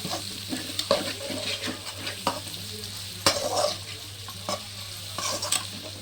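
Tomatoes sizzle and fry in a hot pan on high heat while a utensil scrapes and stirs them in irregular strokes, close up.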